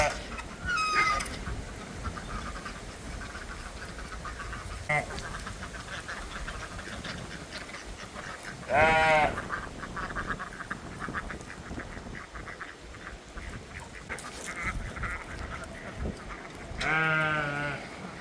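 Farm ducks in a backyard garden plot in southern Australia quack in short harmonic bursts, loudest around nine and seventeen seconds, over steady outdoor background noise.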